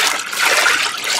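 Water poured over corn to make hog bait, a brief, close, steady splashing trickle of liquid with no talk.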